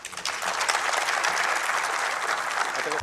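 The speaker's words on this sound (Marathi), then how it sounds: "एकदा जोरदार टाळ्या कुबेर सरांसाठी अपेक्षित आहेत" An audience bursts into loud, sustained clapping after a lecture on the oil question and power-cut crisis, a dense crowd of hands applauding steadily for a few seconds.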